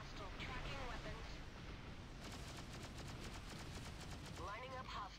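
Rapid bursts of weapon fire sound in a space combat video game, with repeated sharp shots in quick runs over a dense rumbling background.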